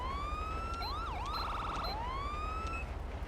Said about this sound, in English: As of right now, we still got the default siren, which is not the best.